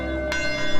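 A church bell in Jeffersonville, the same bell rung for Sunday morning services for decades, sounds a loud sustained ringing tone with a fresh strike partway through, heard alone.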